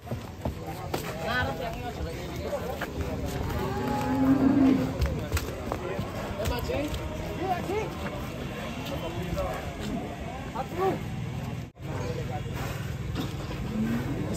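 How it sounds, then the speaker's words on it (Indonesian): Large jumbo cattle being unloaded from a truck, with a low moo rising around the four-second mark amid busy outdoor clatter and crowd noise, and people talking throughout. "Sapi jumbo guys"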